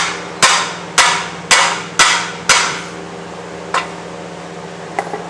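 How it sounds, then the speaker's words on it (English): Sharp metallic hammer blows strike a lower ball joint on an Acura RSX Type S, five evenly spaced loud hits followed by two lighter taps, ringing close up with no talk. "now normally you can just hammer these guys right out"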